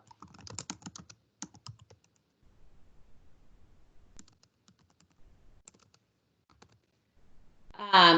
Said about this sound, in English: I'm going to type that into the IM window